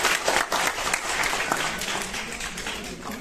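An audience at a political meeting applauds to welcome guests, a dense, steady wash of clapping that gradually eases off over a few seconds.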